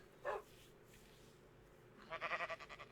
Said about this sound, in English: do I hear my dog still?